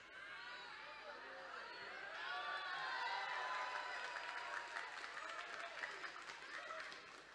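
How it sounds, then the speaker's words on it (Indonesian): Audience clapping at a large Islamic religious gathering, a broad crowd of applause and cheering that swells and holds steady, heard from a distance amid crowd noise. "Kok kamu tepuk tangan?"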